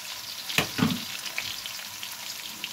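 Garlic, ginger and onion frying in a pan, with a steady close sizzle, a sharp clatter of stirring near the start followed by a brief louder crackle, then continuous hissing.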